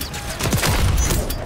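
Gunfire in Call of Duty MW3: a dense, loud burst of rapid shots rattles continuously for about a second and a half.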